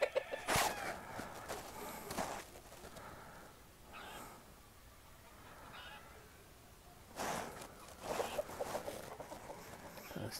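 Rooster and hens at a breeding farm in Sycamore Valley, with short clucks and calls bursting out near the start and again toward the end, under quieter stretches of background noise.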